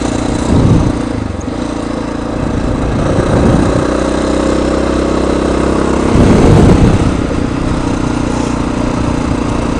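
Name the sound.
XR 650R motorcycle engine riding up Mount Herman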